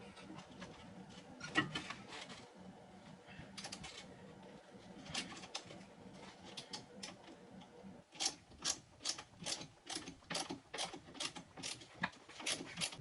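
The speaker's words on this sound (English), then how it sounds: "I'm gonna see if I can grab a wrench and an Allen and then try to turn it a little bit and break it free" A wrench works at a seized strut nut on a 2007 Mini Cooper S, giving faint, close ratcheting clicks in irregular runs that grow into a quicker, steadier clicking sequence toward the end.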